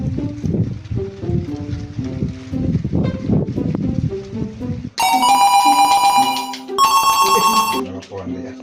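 A telephone ringtone rings loudly in two bursts of bright repeated electronic tones, each following people talking in Sundanese, close and clear.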